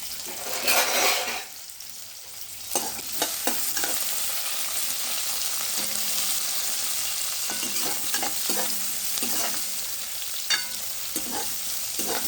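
Onion sautéing in a pan, with a steady frying sizzle broken by repeated scraping and clattering stirs of a spoon against the pan, close and fairly loud, no talking.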